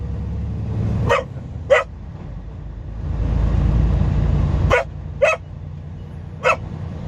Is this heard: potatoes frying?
no